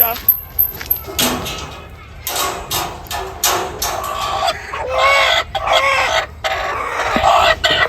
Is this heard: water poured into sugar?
no